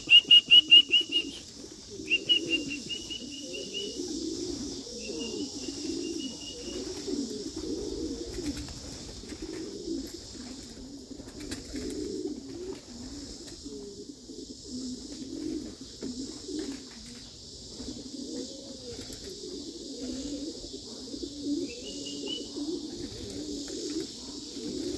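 Young pigeons coo softly and keep murmuring inside a loft in an even, low burble that runs throughout, with a few brief sharp sounds at the start and a faint steady high hiss behind.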